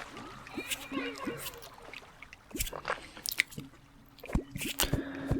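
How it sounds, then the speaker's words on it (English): Water released and flowing in the video game Terraria, with scattered wet squishes, drips and trickles at close range and soft whispered talking over them. "So right now I'm letting water down."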